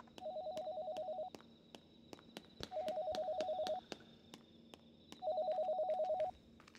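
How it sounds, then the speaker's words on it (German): Three bursts of electronic telephone ringing in the video game Yamawari: Lost in the Dark, each burst a rapid warbling trill about a second long, separated by short pauses, fairly clear over a quiet dark ambience. "Oh, Telefon?"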